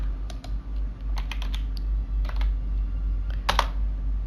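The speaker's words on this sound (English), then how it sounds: "you just enter that command by typing it into the keyboard" Computer keyboard typing a short command, a run of separate clicks and key taps in irregular bursts, close and clear over a low steady hum, no talking.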